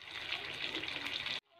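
Water gushes steadily into a cooking pot of fried potatoes and meat for an aloo gosht curry, a close, continuous pouring rush that stops abruptly near the end.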